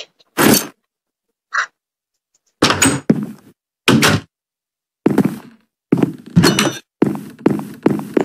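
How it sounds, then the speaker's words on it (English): A series of sharp, separate thuds and knocks with silent gaps between them, like doors banging and creaking open in the video game Minecraft, loud and close with no voices. "Is that you that opened the door?"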